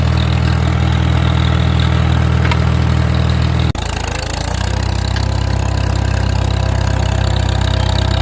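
A Farmall M tractor engine pulls an International 510 grain drill through crusted ground while planting corn, a steady, close, low-pitched putter in fourth gear that drops and resettles briefly midway.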